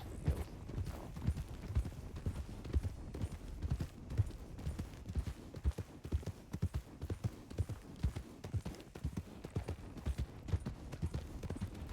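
Horse hooves clip-clop steadily on the ground in the Red Dead roleplay game WildRP, a continuous quick patter of soft thuds at moderate distance that runs throughout.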